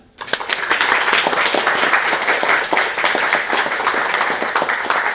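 An audience claps for a game presentation at a game development club event, with dense, continuous applause building quickly and holding strong throughout.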